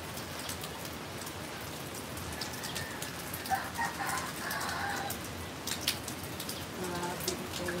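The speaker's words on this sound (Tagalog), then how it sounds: "Walang tigil ang ulan, ulan." Heavy nonstop rain hisses steadily at close range, with a few louder drips and distant birdsong in the background.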